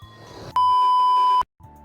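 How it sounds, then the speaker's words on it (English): Build timer in the Roblox game Bloxburg sounding one loud, sustained electronic beep just under a second long over soft background music, followed by a short silence before the music returns. "The timer has officially gone off"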